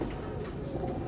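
Pigeons kept by a Kasur pigeon fancier coo steadily and close by, with soft overlapping calls and no voices present.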